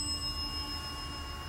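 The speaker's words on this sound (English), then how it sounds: "Ring the bell." A bell rung in a school, a single sustained metallic ring with clear steady overtones lasting throughout, fairly faint over a low background hum.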